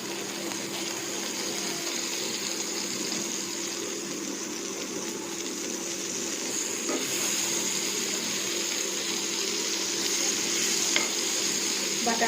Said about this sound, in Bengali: বাটারটা গলে যাওয়া পর্যন্ত অপেক্ষা করব।